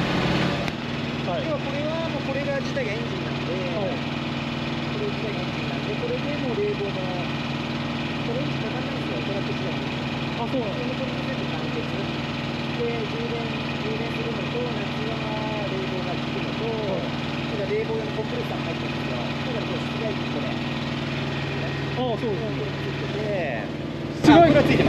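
A North American truck's engine idles steadily throughout as a low, continuous hum beneath people talking, with a brief louder burst at the very end.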